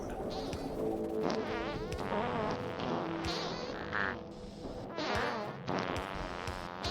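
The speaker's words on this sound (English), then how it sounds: "Sorry about the fart sounds." Buzzing, warbling fart-like noises from the factory video game Factorio repeat in wavering bursts over a steady mechanical game hum, loud and close, with no speech.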